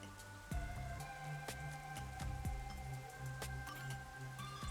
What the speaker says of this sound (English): The rain just won't stop